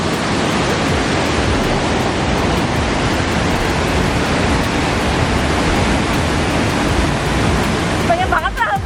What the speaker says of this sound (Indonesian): Deras banget ya, keras banget airnya.